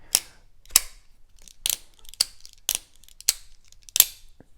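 A shark lock folding knife is worked open and shut, giving seven or eight sharp, close metallic clicks spaced about half a second apart with quiet gaps between them.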